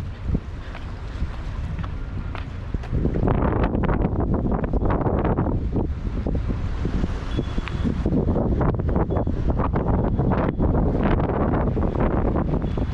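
Strong wind blows at Kahului Harbor, buffeting the microphone in a loud, continuous roar that grows heavier after the first few seconds and stays gusty throughout, with no talking.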